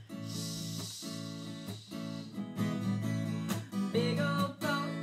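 A voice imitates water rushing past a moving boat with a long, steady "shh" hiss, layered over background music for kids.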